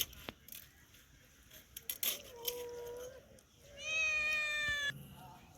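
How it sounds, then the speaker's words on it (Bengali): A cat meowing while eating hilsa fish scraps, a few soft close meows with a longer drawn-out cry near the end, over faint clinks and light background noise. "এই দেখো বিড়াল পাইছে, খুশি খুশি খাইতেছে"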